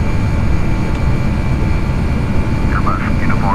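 An Airbus A320 jet climbing just after takeoff, a loud, steady engine roar that fills the whole stretch, with a few brief chirping tones near the end.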